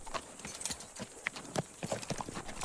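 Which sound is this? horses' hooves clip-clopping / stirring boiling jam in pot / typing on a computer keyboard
horses' hooves clip-clopping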